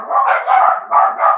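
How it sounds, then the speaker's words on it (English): Dogs barking in the background, a short series of about four muffled, sustained barks or yowls in quick succession, fairly loud, with no talking. "so you can maybe hear my dogs in the background there."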